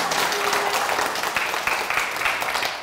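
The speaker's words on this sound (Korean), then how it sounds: "우리 한명성 도생님이 유종의 미를 거둘 수 있도록 큰 박수 부탁드립니다." Audience applause fills a quiz-show hall, a dense, steady wash of many hands clapping together, loud and sustained throughout with no speech over it.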